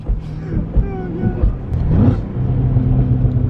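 A sports car engine revs hard, with sharp, irregular pops and bangs of backfire breaking through a steady, close rumble.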